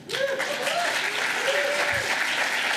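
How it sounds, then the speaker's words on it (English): A crowd applauds steadily at a groundbreaking ceremony for Harvard's Enterprise Research Campus, honoring Tishman Speyer, with dense sustained clapping throughout and faint voices and cheers mixed in. "I really want us to all give a thunderous round of applause to Tishman Speyer."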